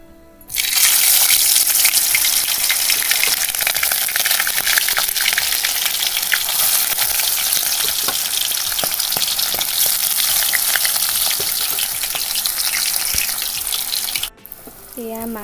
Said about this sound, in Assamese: এয়া তেল গৰম হৈ গৈছে, মই ইয়াতে এতিয়া মাছ কেইপিচ ফ্ৰাই কৰি ল'ম অকণমান